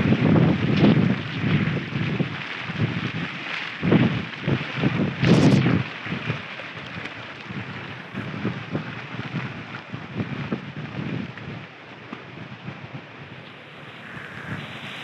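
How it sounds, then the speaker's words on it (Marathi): Strong wind blows at the foot of Sarasgad fort, a loud gusty rumble on the microphone that swells in bursts early on, then eases to a steadier, fainter rush, with no one talking. "खूप जोराची हवा येते"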